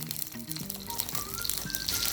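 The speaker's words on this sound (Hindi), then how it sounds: "तो आप इसी तरीके से मिर्ची का तड़का लगाएंगे ना, घी और मिर्ची का" Kashmiri red chillies sizzling in hot ghee for a tempering poured over Amritsari chole, a crackling, popping fry under some tonal background sounds, close and steady without talk.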